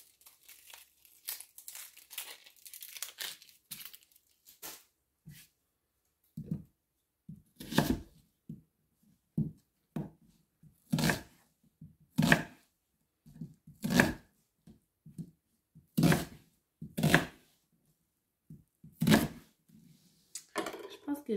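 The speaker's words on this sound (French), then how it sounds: "Je vais me préparer un oignon." An onion for pumpkin soup is peeled with papery crinkling and then chopped on a board in a run of sharp, evenly spaced knife strokes, close and distinct with short silences between them.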